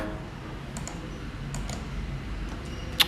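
AutoCAD commands are typed on a computer keyboard and Enter is pressed, giving a few scattered close key clicks over a quiet room hum, with one sharper click near the end.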